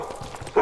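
A dog barks in a Minecraft game, one short bark near the end after a stretch of quiet background sound.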